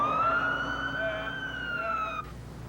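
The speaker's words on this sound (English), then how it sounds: "the sirens can be sounded for hazardous fires and chemical spills too" An outdoor warning siren sounds a sustained, slowly wavering tone with strong harmonics, steady and fairly prominent, then cuts off abruptly near the end, leaving low background noise.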